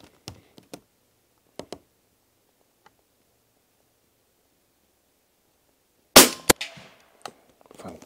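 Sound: suppressed De Lisle carbine gunshot, subsonic bullet at long distance

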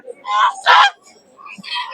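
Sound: large raja ducks at a village poultry market

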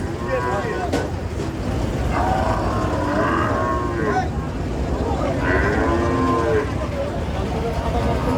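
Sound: cattle mooing at a cattle market

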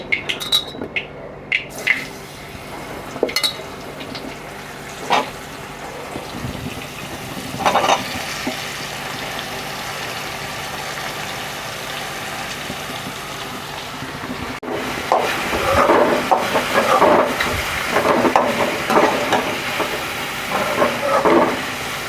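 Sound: sautéing mushrooms with turmeric in a pan

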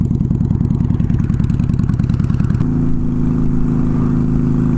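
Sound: Shadow motorcycle engine while riding

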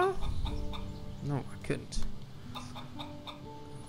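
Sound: chickens clucking in the video game Risen

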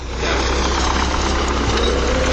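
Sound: tractor with seeder engine running in field

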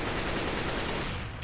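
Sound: gunfire in video game CS:GO

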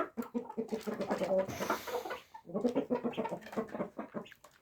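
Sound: rooster, the oldest one

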